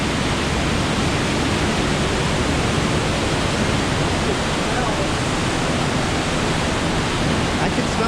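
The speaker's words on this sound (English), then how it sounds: "The sound of the rushing water is soothing." Steady rushing water alongside the promenade deck of the Norwegian Dawn cruise ship, a continuous broadband wash that holds even and fairly loud throughout with no breaks.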